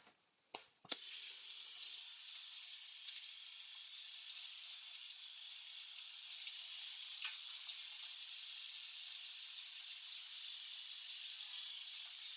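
Onion, carrot and garlic fry in a pan for a cottage pie, giving a loud, steady, close sizzle that runs unbroken after a brief clatter at the start.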